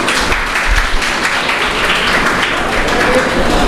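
A crowd claps together at a body-donation honouring ceremony, a loud, continuous wash of applause with some low thumps and no speech over it.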